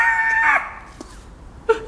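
A voice imitates a chicken squawking, a loud rising squawk up front followed by a shorter squawk near the end, during storytelling in a winter garden.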